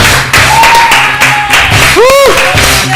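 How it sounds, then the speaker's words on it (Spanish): A small group applauds loudly and close by during a training session, with brief vocal whoops mixed into the clapping. "Aplaudirle, pero se merece un aplauso."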